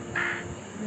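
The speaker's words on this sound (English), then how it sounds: "Yes, this is the sound of a crow." A single crow caw, one short harsh call near the start that rings out briefly and then fades into a quiet outdoor background.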